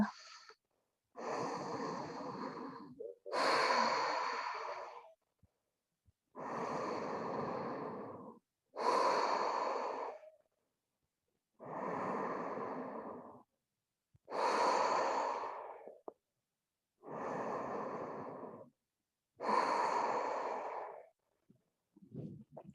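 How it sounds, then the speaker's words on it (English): Slow, deep breathing during an intermediate hatha yoga session of standing balances, with about nine long, even breaths in steady rhythm, each separated by a short pause and heard close and clear with no talking. "Soften and breathe."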